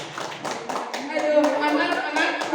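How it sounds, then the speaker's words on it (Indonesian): An audience at a school gathering on positive culture claps briskly, a dense burst of close applause lasting a few seconds, with faint voices underneath. "Aplaus."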